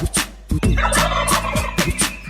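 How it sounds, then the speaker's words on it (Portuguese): A turkey gobbles in a children's song about farmyard animals: a loud, close, rapid warbling gobble repeated in a few bursts, standing alone without singing over it. "Lá tem um peru."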